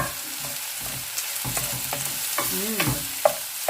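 Garlic fries in a pan for pork adobong takway, with a constant sizzle under repeated scraping strokes of a utensil and a few clicks against the pan.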